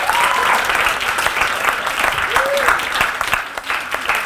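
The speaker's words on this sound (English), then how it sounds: "can we give a round of applause to Miss Sullivan" Applause from an audience at a high school story slam event, a steady, dense wash of clapping that fills the room throughout, with a few voices faintly mixed in.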